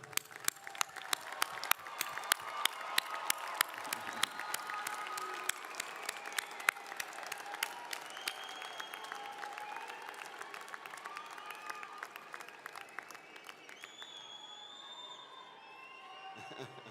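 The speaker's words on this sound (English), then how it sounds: "please join me in giving them all a round of applause for their support" A large audience at a university undergraduate graduation ceremony applauds steadily, dense clapping filling the hall and slowly thinning toward the end, with faint crowd murmur beneath.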